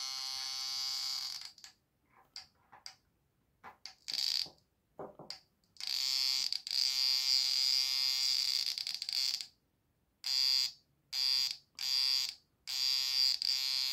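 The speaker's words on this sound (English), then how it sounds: "Here we connected our battery. Metal detector already started." A homemade pulse induction metal detector with search coil and battery gives off a loud, steady electronic buzzing tone in repeated bursts, starting and stopping with gaps, then holding for several seconds at a time.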